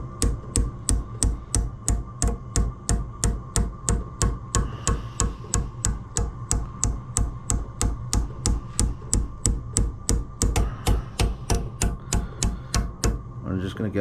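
Steady, evenly spaced hammer blows on a flat metal disc being shaped into a custom motorcycle bearing cover, loud close metallic strikes repeating for over a dozen seconds, around three per second.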